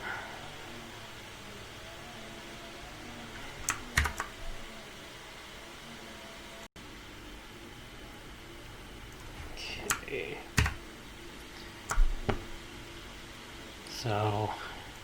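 Sparse, faint key clicks in a few short bursts from a computer keyboard as a name is entered in the Microsoft Bob installer, with quiet hiss between them.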